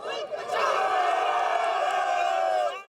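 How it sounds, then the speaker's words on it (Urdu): Party workers carrying flags and banners outside Governor House in Lahore raise loud slogans against the Punjab governor, a dense crowd roar swelling and holding for a few seconds before cutting off. "ہاتھوں میں پارٹی پرچم اور بینر اٹھائے کھلاڑیوں نے گورنر پنجاب اور وزیر داخلہ کے خلاف نعرے بازی کی"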